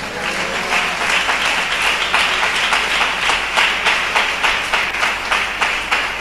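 A Tamil Christian congregation claps during a sermon, a loud, steady stream of applause with a regular rhythmic pulse filling the whole stretch, with little speech over it.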